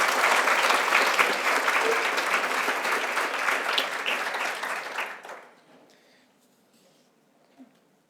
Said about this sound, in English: could we just give a final round of applause to our panelists?